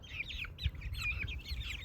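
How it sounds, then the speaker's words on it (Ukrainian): Backyard flock of hens with a rooster on a village garden plot, giving repeated close clucks and chirpy calls in a steady, busy chatter over low rustling, with no talk. "Один півник, коротше, решта курочок."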